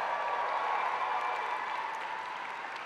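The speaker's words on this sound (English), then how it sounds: "I invite the members of the graduating class to reciprocate by applauding your family, friends, faculty, and staff" Graduates applaud at a university convocation ceremony, a steady, dense wash of clapping from a large crowd, even and sustained without a break.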